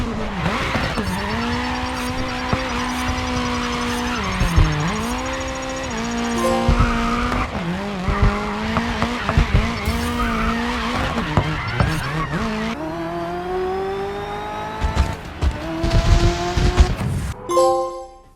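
Racing video game car drifting with continuous tire squeal and skidding over a droning, shifting engine note, loud and sustained throughout, with game music or effects layered in.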